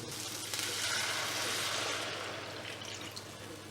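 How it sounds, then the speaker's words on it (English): About 200 ml of water with a splash of vinegar pours steadily into a pan for hake steaks with chorizo and potatoes, a continuous rushing, hissing splash with faint sizzling, close by and without talk. "I'll put 200 mils of water in a bit of vinegar"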